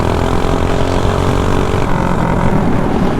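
A mini bike engine held between half and full throttle on a street ride makes a loud, continuous buzzing drone that stays steady and close throughout.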